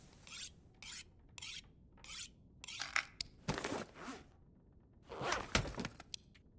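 A tool being sharpened on a whetstone in The Long Dark video game, heard as a series of close, rhythmic rasping strokes in short bursts separated by brief pauses, with no speech.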